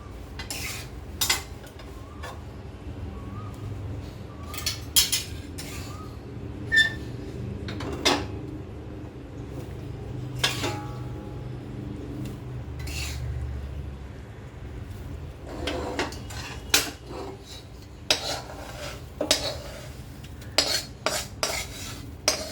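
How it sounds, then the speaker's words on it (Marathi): Laddu mixture is tipped into sugar syrup and stirred, a metal spoon clinking and scraping against the pot in scattered knocks and taps over a soft steady background. "आता आपलं हे जे मिश्रण आहे हे आपण सगळं पाकामध्ये घालणार आहोत"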